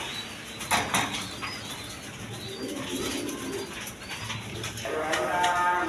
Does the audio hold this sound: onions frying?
no